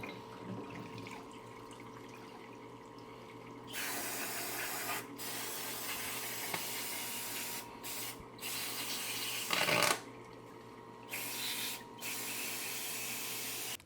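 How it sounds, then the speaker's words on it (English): A parts washer fills and sprays during a Yamaha TTR 230 motorcycle restore, a loud hissing spray that starts and stops in bursts over a low steady hum, with no talking. "let's take this and just throw it in our parts washer real quick"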